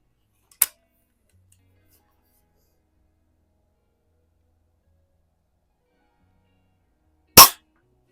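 Two sharp isolated shots from a 125-year-old Eisenwerke Gem No. 13 air gun fired at cans, each a single crisp crack, spaced several seconds apart in near silence.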